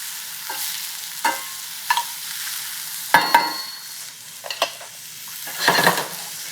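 Mushrooms searing and sizzling in a very hot pan, a steady fry broken by several sharp stirring and scraping bursts, close and fairly loud, with no talking.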